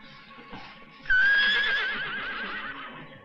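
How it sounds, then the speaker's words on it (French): A horse gives a loud, wavering whinny that rises sharply, quivers for about two seconds and fades out, heard alone at mid distance. "C'était un hennissement, je vous dis."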